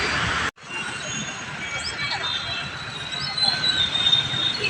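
A metro train runs at Kukatpally metro station with a loud, steady rumble and high metallic wheel squeal, briefly cut off near the start and swelling slightly toward the end, with no voices.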